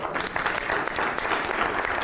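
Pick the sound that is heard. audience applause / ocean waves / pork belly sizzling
audience applause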